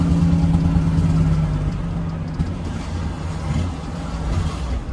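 A truck engine fitted with a loud aftermarket exhaust kit runs at a steady idle, giving a close, continuous low rumble with a faint hum on top and no voices.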